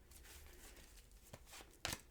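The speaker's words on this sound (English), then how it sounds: "I'm going to shuffle and deal you an Angel Oracle card" Angel Oracle cards are shuffled by hand in soft, quiet riffling and sliding, with a sharper snap near the end, close and alone.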